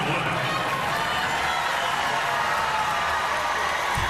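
A basketball arena crowd roars steadily through a close NCAA women's Sweet Sixteen game between UCLA and LSU, a dense, loud wash of cheering and clapping that holds without a break.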